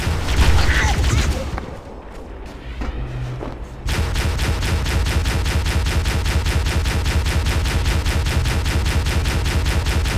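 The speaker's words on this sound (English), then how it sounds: "And there's artillery." Artillery and automatic gunfire in Halo: Combat Evolved, with dense rapid-fire shots hammering continuously and loudly after a short lull of softer battle noise and booms.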